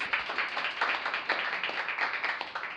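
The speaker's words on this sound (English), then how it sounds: "Round of applause for both first speakers" Debate audience applauding both opening speakers: a steady, dense patter of many hands clapping at moderate distance, holding evenly throughout with no one speaking over it.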